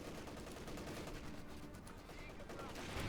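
Covering gunfire from units in a Company of Heroes 2 match, OKW against British forces, a dense continuous rattle of small-arms and machine-gun bursts mixed with battle noise, steady and loud throughout.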